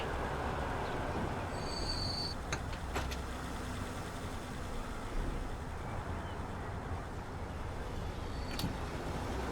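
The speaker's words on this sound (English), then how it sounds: "here comes a train coming back. Ah, just a passenger train." A passenger train in the Transport Fever 2 game rolls past with a steady, loud rumble of wheels on track, brief high squeals and faint clanks, and no talking.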